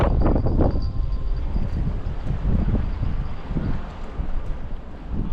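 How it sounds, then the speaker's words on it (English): Gusty wind buffets the microphone in low, rumbling bursts while sea fishing on the Firth of Tay, Scotland, steady throughout with no voices. "It's windy"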